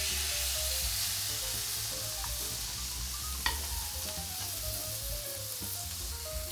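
Veal cutlet rubbed with oil sizzles steadily on a hot grill, a continuous close hiss with a low rumble beneath and one sharp crackle partway through, no voices.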